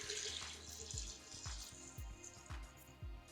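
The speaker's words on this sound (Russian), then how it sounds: "засыпали вишню в банку, берем самогон и просто заливаем" Homemade moonshine is poured into a jar of cherries, a faint, steady liquid splash and gurgle with small irregular glugs and drips, close by and without talk.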